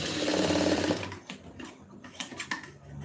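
A sewing machine runs a fast, steady stitching burst through fabric for about a second, then stops, leaving scattered handling clicks and rustles.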